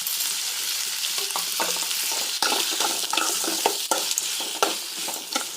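Tomatoes sautéing in a pan for tomato chutney give a loud, steady sizzle with scraping stirs breaking through now and then, close up and without speech.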